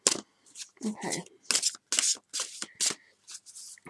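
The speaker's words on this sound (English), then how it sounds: "The only downside with doing really large cards is that it's really difficult to shuffle sometimes." Large tarot cards are shuffled by hand in a run of quick riffling, slapping bursts with brief gaps between them, close and crisp, while someone says a single short word.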